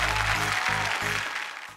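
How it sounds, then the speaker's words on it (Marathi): Crowd applause from a Marathi TV show audience, a broad wash of clapping that holds steady and then fades toward the end, with a low hum underneath. "वा वा वा, जोरदार टाळ्या झाल्या पाहिजेत"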